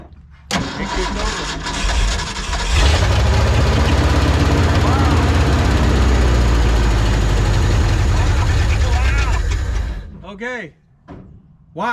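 The engine of a 1970 Ford F250 with no muffler cranks and fires, then roars loud and raw at close range for several seconds before cutting off.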